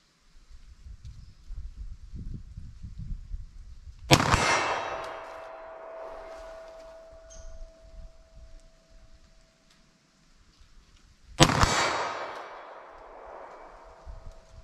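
Two sharp, loud gunshots from a pistol firing Sig V-Crown ammunition, roughly seven seconds apart, each with a bright metallic ring that trails off, amid quiet outdoor range background.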